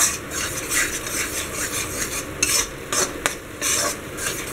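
Gram flour being continuously stirred and roasted in a pan for a sweet, a steady soft sizzle with rhythmic scraping strokes of a spoon across the pan bottom and an occasional knock.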